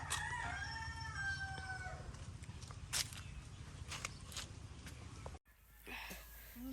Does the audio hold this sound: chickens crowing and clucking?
yes